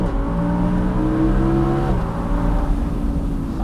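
A naturally aspirated V10 in an Audi R8 V10 Plus Spyder sings loudly up through the revs, then drops sharply on a shift and settles into a steady roar on an alpine pass road, no talking.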